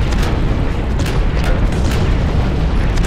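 A mech's self-detonation explosion in the online mech shooter Hawken, a loud, sustained rumbling roar that fills the whole stretch without letting up.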